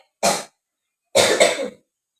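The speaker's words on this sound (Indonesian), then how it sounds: "Batuk Pak." Two sharp coughs, the second longer and rougher, separated by silence.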